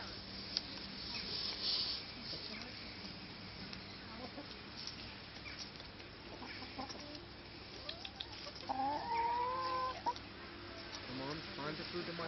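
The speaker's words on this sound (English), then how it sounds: "That's the chicken." A chicken clucks in short bursts near a capybara enrichment area, with a few sharper calls toward the end, while people talk quietly in the background.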